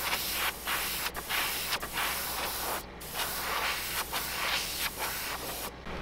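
Aerosol spray paint hissing onto a musky tail spinner blade in a pastel purple shade, a steady close hiss broken by a few brief pauses between bursts.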